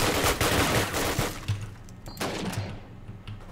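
Rapid video game gunfire during a LAN game night on a dual Athlon MP workstation, bursts of overlapping shots clustering at the start and again midway, with quieter gaps between.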